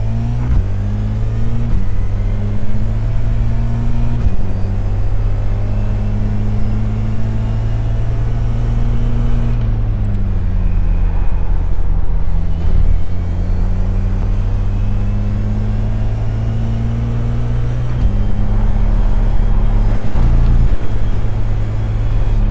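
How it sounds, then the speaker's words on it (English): Race car engine in a racing video game holds a loud, steady drone throughout, pitch shifting with throttle and gear changes, with brief dips and rises as the car accelerates and lifts. "My engine sounds great."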